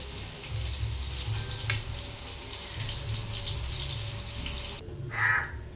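Food frying in oil gives a steady close crackle and hiss with low bubbling, joined by crows cawing nearby and a brief rush of running water near the end.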